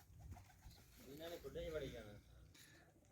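Pigeons coo close by in a village as grain is scattered for them, soft throaty calls overlapping with a voice talking.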